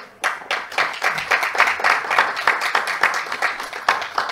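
Audience members at a round-table panel on procurement law clap for a speaker being introduced, crisp hand claps that start abruptly and run on steadily, loud and near.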